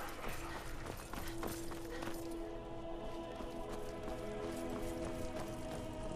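Rapid clip-clop hoofbeats from a galloping horse in Skyrim, steady and close, layered over a busy, sustained tonal background.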